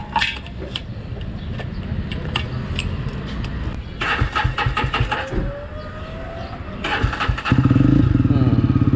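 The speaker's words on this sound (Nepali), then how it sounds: "एकैतालमा स्टार्ट भयो त्यसले नभएर रहेछ" A Jawa motorcycle engine starts and runs outdoors, with rattling mechanical clatter building before settling into a loud, steady idle close by.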